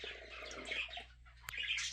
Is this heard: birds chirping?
yes